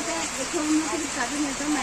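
Heavy monsoon rain pours down in a steady, dense hiss, with a voice talking over it in places.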